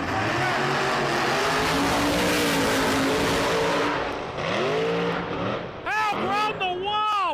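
Small-tire race cars in the second round of drag racing, engines roaring loudly and continuously with rising revs and whining pitch sweeps as they accelerate past, heard up close.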